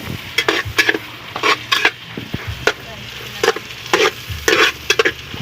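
Ginger goes into a frying pan while pinakbet cooks, bringing a steady sizzle under repeated scraping and stirring strokes from a utensil against the pan, close and fairly loud.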